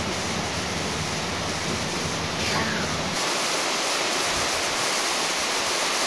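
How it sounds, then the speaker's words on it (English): A waterfall along a mangrove coastline, a loud, continuous broadband roar of falling water that stays steady throughout, close and dominant. "Come on, look at the falls."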